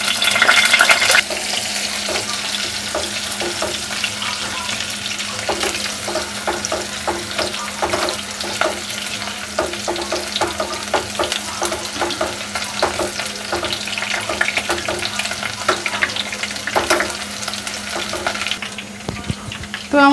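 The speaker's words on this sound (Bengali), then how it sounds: "তো আমার পেঁয়াজ ভাজা হয়ে গেছে।" Onions fry in oil in a home kitchen pan, a loud continuous sizzle broken by repeated scraping stirs of a spatula throughout, close up with no talking.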